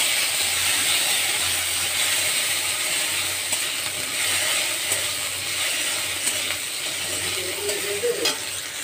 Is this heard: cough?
no